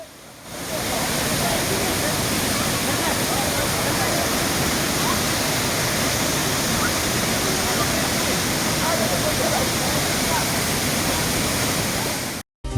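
The Jayapuram waterfall roars in a loud, steady rush of falling water that holds unbroken for several seconds before cutting off abruptly.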